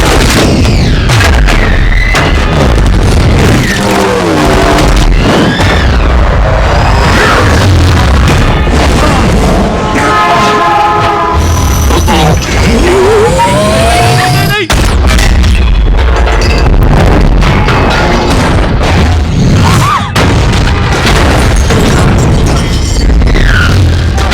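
Gunfire and heavy explosions from a Transformers: Age of Extinction action scene, loud and dense booms and blasts layered over music and effects, with short shouted voices in between.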